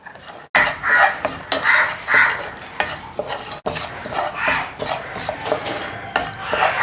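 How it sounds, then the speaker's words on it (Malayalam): Coriander, turmeric and pepper powder roasting in a pan for a beef fry, with a spoon scraping and stirring in close, rhythmic rasping strokes and occasional light clinks. "അപ്പോൾ നമുക്കിതെല്ലാം കൂടെ ഒന്ന് റോസ്റ്റ് ചെയ്തെടുക്കാം."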